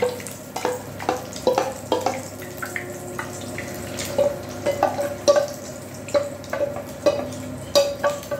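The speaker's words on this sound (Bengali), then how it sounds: "আর যেটুকু চিকেন আছে সেটা আমি ভেজে নিচ্ছি।" Chicken pieces fry in a pan for a green hariyali chicken curry: a moderate sizzle broken by repeated sharp stirring scrapes and clinks at an uneven rhythm, with no talking.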